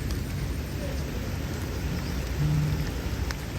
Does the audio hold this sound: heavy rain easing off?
yes